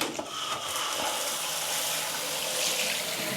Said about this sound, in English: That's quite a strong shower.